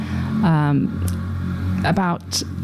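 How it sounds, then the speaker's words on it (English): A noisy motorbike rumbles past close by with a steady low engine drone, partly under speech. "that was a very noisy motorbike that went past"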